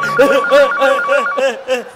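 A phone ringtone plays a bright, repeating melodic phrase in quick cycles, loud and close, filling about two seconds in a comedy sketch.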